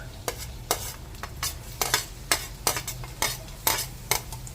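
Garlic sautés in a hot pan with a steady sizzle. A spoon stirs it in a regular rhythm, each stroke a scraping clink against the pan. No one speaks.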